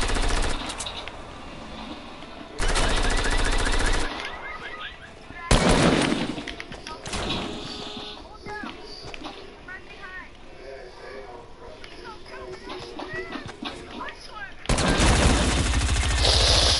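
Rapid-fire gun shooting in a video game bursts out in dense loud volleys, cutting in and out between stretches of busier game noise, with people talking over parts of it.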